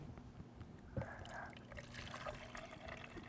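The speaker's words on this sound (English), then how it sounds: "I'm going to pour some vinegar" Vinegar poured into a pitcher for a homemade volcano, a soft liquid trickle and splash running steadily for a few seconds at low level, with faint background noise.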